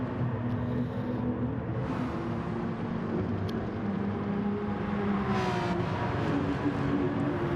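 A race car engine in a racing video game holds a steady high drone with gradual pitch changes, continuous and fairly loud, with no talk over it.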